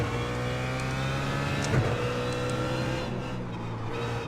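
A BMW Z4 race car in the iRacing video game accelerates steadily with a sustained engine drone, a crackling traction-control cackle and a brief swell partway through, with no voices.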